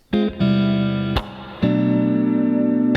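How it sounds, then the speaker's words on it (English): Electric guitar chords ring out one after another, each strum sustaining before the next, stepping downward in a short walk-down. Clean, close, no voices. "So again, that walk down all together would sound like this."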